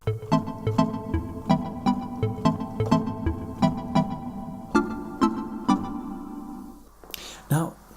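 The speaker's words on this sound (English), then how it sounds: "using the Minilog through a TC Hall of Fame reverb, and it sounds like this." Korg Minilogue synthesizer played through a TC Electronic Hall of Fame reverb: a repeating sequence of plucky, rhythmic notes over sustained tones, with reverb tails ringing out and the pattern falling away near the end before a brief final flourish.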